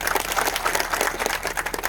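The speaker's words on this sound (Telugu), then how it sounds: "మన ఎమ్మెల్యే గారికి ఒకసారి గట్టిగా చప్పట్లు కొట్టండి." An audience applauds for an MLA at a public gathering, a steady, dense patter of many hands clapping together at moderate loudness, continuous throughout with no voices over it.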